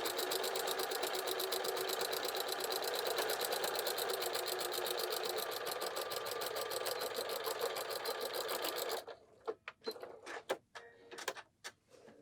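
A sewing machine stitches fabric for a waist apron, running steadily with a rapid, even mechanical rattle for several seconds, then stops, leaving a few scattered clicks and knocks.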